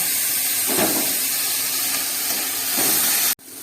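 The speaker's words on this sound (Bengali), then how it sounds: "আর এখানে এদিকে আমার মাংসটাও দেখো হচ্ছে, অল্প একটুখানি ভাপিয়ে নিতে হবে" Chicken mince steams in a covered pan, giving a steady broadband hiss that runs evenly throughout and cuts off abruptly near the end.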